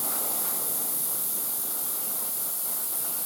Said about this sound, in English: the idea is to spray a fairly dark silver on most things